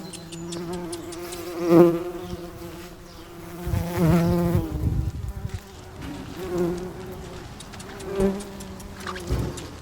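A bee buzzes around a garden in repeated close passes, its droning hum rising and fading several times over low background noise, with no talking.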